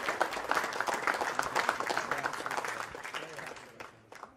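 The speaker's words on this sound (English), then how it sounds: "let's get a big round of applause for the first ever winner of the PokerStars Championship, Christian Harder." Audience applause for the winner of a PokerStars Championship poker tournament, with brisk dense clapping that holds steady, then gradually thins out and fades.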